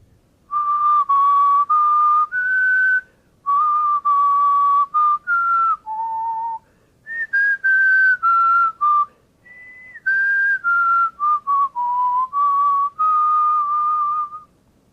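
Someone whistles a clear, simple melody alone as a sight-singing exam response, phrase by phrase with short pauses between notes, close and loud.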